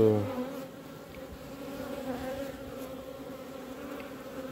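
A healthy honeybee colony hums close by in a steady, moderate buzz, with a low wing drone holding evenly throughout and no voices.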